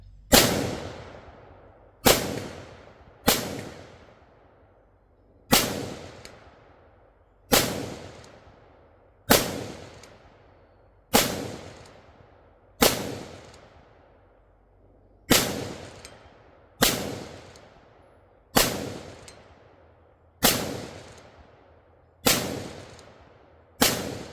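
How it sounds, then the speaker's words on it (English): Bear Creek Arsenal BC15 rifle firing 5.56 rounds at steel targets on an outdoor range: about fifteen loud, sharp shots spaced roughly one to two seconds apart, each with a quick decaying echo, no talking. "We'll take some shots here on the steel on the rifle range and just kind of see how it does."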